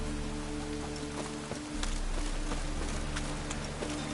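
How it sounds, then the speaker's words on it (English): Steady rain falls in The Witcher 3: Wild Hunt, a soft continuous hiss with scattered drops and a low background hum, faint and without voices. "Must be mad running around in this rain."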